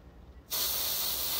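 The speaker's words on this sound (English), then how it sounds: "I just basically like give it a little tiny spray" A short spray of liquid during tattoo preparation, heard alone as a sudden, steady hiss that starts halfway through and holds loud to the end.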